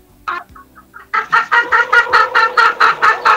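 A chicken clucks in rapid, loud, evenly spaced bursts close by, after a few softer sounds at the start.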